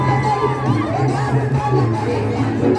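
Crowd at a Baisakhi festival fair cheering and shouting, a steady loud wash of many voices with whoops and children's cries, close and continuous throughout.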